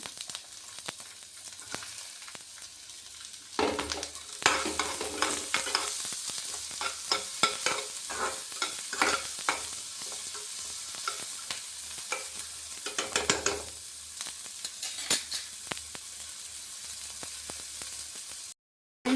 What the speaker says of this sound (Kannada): ರೋಸ್ಟ್ ಮಾಡಬೇಕು ಫಸ್ಟು ಒಂಚೂರು ಬೆಳ್ಳುಳ್ಳಿ ಹಾಕ್ತೀನಿ